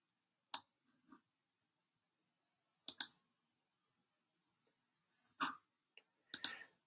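Computer mouse clicks while working in Xero accounting software, a handful of sharp, isolated clicks spaced apart with near silence between them.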